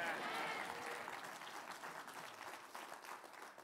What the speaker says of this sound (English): If you believe it, clap your hands and say amen